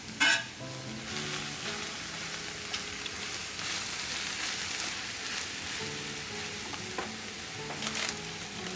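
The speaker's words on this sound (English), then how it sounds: "Now we're going to add mushrooms." Onions, garlic and a whole pack of fresh mushrooms fry in a pan, sizzling steadily at moderate volume while occasional stirring scrapes and clatters punctuate the sound, with no talking.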